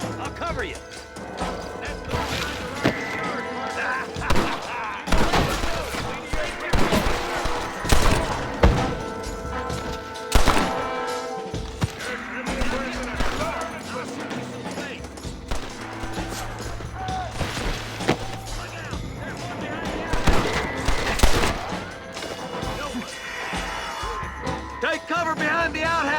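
Shootout in the video game Red Dead Redemption, with dense, rapid gunfire cracks and impacts in irregular bursts over a constant backdrop of game noise for the whole stretch, no talking.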